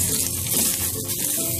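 Cashews frying in melted butter in a pan, a dense, steady close-up sizzle with soft bubbling crackle throughout, no speech over it.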